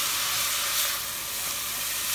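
Butter sizzles and hisses steadily in a hot pan with cabbage cooking in it, a close, constant frying noise with no talking.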